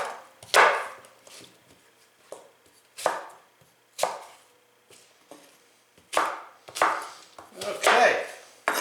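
A knife dicing an apple on a cutting board, sharp chopping strikes in an irregular rhythm, some single and some in quick clusters, close and crisp with quiet gaps between.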